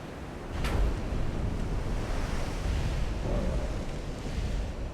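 Naval shell fire and splashes in the naval warfare game Ultimate Admiral: Dreadnoughts, heard as a sharp crack followed by a sustained rushing, surf-like wash of water and wind that stays steady and fairly quiet.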